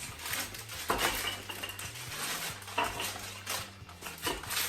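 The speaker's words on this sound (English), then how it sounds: "I like using the parchment paper because, like I said, it's noisy" Crinkly, scratchy rustling of parchment paper as a rolling pin works cheese cracker dough back and forth, with a low steady hum beneath.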